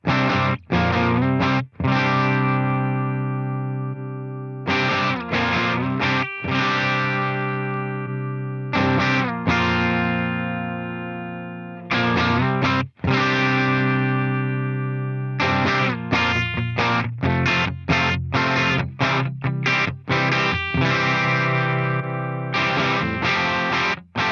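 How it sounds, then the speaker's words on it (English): Electric guitar through a Headrush Black Op distortion unit plays loud, heavily distorted sustained chords, ringing out, breaking off, then resuming in choppy bursts with short pauses between. "we need a little bit more distortion on the BlackOp"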